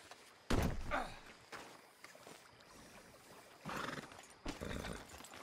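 Horse hooves clop and a horse neighs in the Red Dead Redemption II video game, with a few bursts of movement and thuds heard faintly at moderate distance.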